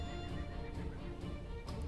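A horse whinnies amid a medieval jousting tournament in a Crusader Kings II Game of Thrones mod, its neigh drawn out over a steady, dense bed of game sound with faint hoofbeats, continuous and fairly loud for two seconds, with no talking.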